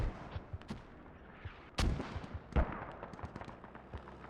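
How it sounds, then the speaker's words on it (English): Mortar fire in the video game Squad booms in two distinct, heavy thuds over a busy background of crackling distant gunfire. "Our mortar is shooting from upward."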